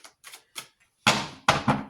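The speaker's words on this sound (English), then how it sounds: "Now I'm shuffling." A tarot card deck being shuffled by hand: a few light riffling bursts, then two louder, fuller card-shuffling swishes close to the microphone, with no talk.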